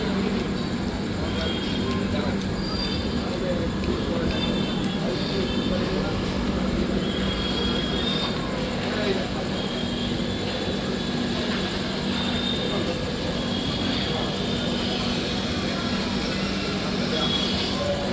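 The Sealdah–Malda Town Gour Express stands at Belgharia station at night, heard as a steady, broad rumble and hum with a low tonal drone, continuous and fairly loud, with station ambience.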